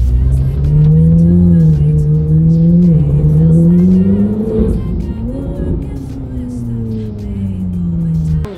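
A car drives along with a steady engine hum close by, pitch rising and dipping as it shifts and accelerates, the sound easing slightly toward the end.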